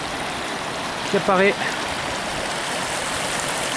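A small mountain stream below the Grossglockner in South Tyrol flows with a steady, close rushing hiss, broken only by a brief spoken phrase near the middle.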